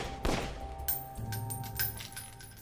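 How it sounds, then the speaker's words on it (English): Gunshots in a cellar room, a loud crack followed by a series of fainter, rapid reports and thuds over a dense, rumbling background. "103 shots are fired"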